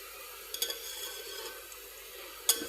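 Golden brown onions stir-fried in a pan for veg dum biryani, giving a faint, steady sizzle with a few soft scrapes and a sharper clink near the end, no talking.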